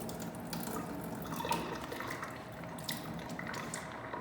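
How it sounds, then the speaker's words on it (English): Liquid pours and trickles steadily as water is drained from an opened tofu package, a continuous close running-water sound with small splashes. "So now we're just going to drain the tofu."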